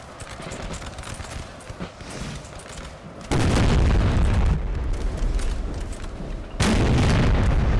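Artillery firing canister shot in Napoleon: Total War, two heavy booming discharges that each cut in suddenly and roar on with rumbling decay over a constant background of battle noise.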